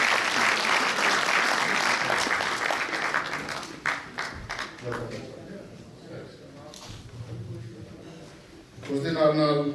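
A public event audience gives loud applause welcoming Dr. Harish Khare, Tribune group editor-in-chief, in Edmonton; the dense clapping fades over about four seconds before voices talk.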